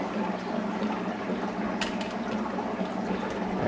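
Steady rush of water pouring and gurgling out of a siphon pipe from an indoor 20-gallon aquaponics tank, continuous and close, with a faint clatter partway through.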